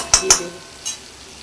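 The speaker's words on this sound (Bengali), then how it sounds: "লাল লাল করে একটু ভাজা হয়েছে, আর একটু ভাজবো" Food frying in a pan until reddish, with two sharp utensil scrapes against the pan close together and a softer stir a moment later over a faint sizzle.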